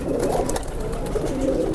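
A highflyer pigeon coos steadily and fairly loudly at close range, a continuous throaty warble with small clicks and rustles around it.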